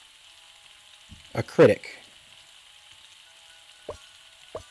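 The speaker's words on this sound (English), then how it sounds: "The egg is frying." Game-kitchen sizzle of an egg frying on a griddle in Galaxy Burger, a steady soft hiss running beneath a short spoken phrase and a few sharp clicks.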